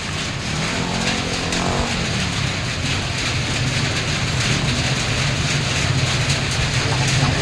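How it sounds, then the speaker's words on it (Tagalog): Heavy rain pours down in a steady, dense hiss with a low rumbling undertone, loud and constant throughout with no voices over it. "Lakas ng ulan guys."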